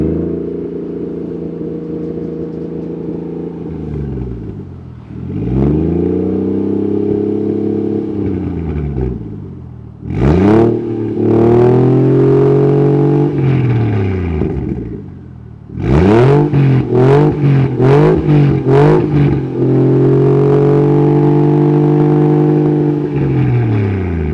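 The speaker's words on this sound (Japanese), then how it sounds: "ちょっと回しますよ。" Toyota Chaser JZX100 Tourer V engine is revved repeatedly at close range, rising from a steady idle into several rising-and-falling blips, then a burst of quick sharp throttle stabs before settling back to a loud idle.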